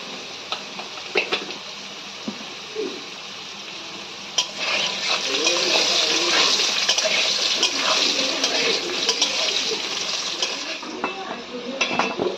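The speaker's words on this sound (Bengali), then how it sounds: "ওই তেলেই আমি আলুগুলোকে এবার ভেজে নেব" Potatoes with salt and turmeric fry in hot oil in a home kitchen, a loud continuous sizzle that intensifies midway, broken by stirring scrapes and utensil clinks against the pan.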